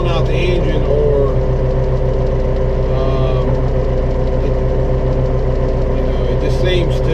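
A small, heavily used tractor with a CVT transmission runs under load, its engine droning steadily with a rhythmic shudder pulsing through the sound at close range.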